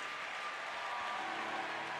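A large arena crowd applauds at the women's 4x100m freestyle relay 34-point victory ceremony of the London 2012 Paralympic Games. The steady, even clapping sounds distant, with a faint hum beneath.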